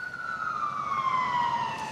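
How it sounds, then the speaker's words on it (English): An ambulance siren wails outside, a single long descending tone that sounds moderately distant and steady. "I'm competing with the ambulance here"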